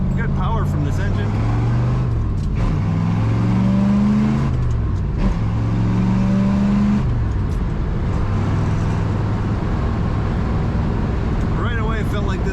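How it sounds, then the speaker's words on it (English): A 1964 Chevrolet Corvette convertible with a four-speed manual pulls hard while driving, its engine note climbing through the gears with rises and drops at each shift. Someone talks over the steady loud drone. "Good power from this engine."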